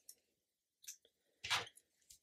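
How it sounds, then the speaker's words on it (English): Scissors cut crocheted yarn ends on a small amigurumi seahorse, giving a few soft, close snips and clicks separated by silence, with one fuller crunchy cut in the middle. "we're just going to cut our yarn ends here."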